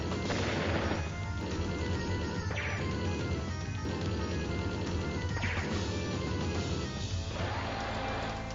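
A bomber unit is destroyed in an attack in Advance Wars: Days of Ruin, heard as a dense run of crashing, thudding battle impacts and bursts, steady and loud over game music.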